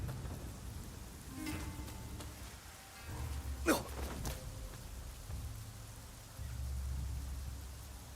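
Rain falls in the video game Rise of the Ronin, a faint, steady hiss of drops on surfaces with a few soft, deeper rumbles mixed in.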